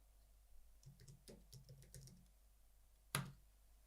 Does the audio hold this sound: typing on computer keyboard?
yes